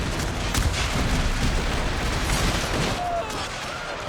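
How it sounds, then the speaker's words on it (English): Battlefield explosions and volleys of gunfire in a Total War Shogun 2 American Civil War scenario with around 10,000 units, a dense, continuous rumble of booms and crackling shots filling the scene without pause. "Oh, nice explosion here."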